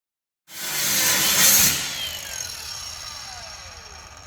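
An abrasive wheel on a power tool spins up from silence with a sudden loud whine, then its pitch drops slowly as it keeps running close by, alone with no talk.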